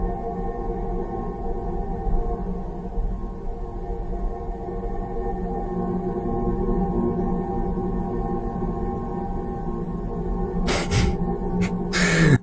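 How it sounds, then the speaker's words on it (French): A space probe recording of Jupiter: a steady, eerie drone of layered low hums and rumbling noise continues throughout, ending with a few brief crackling bursts. "Ça, c'est le bruit de Jupiter."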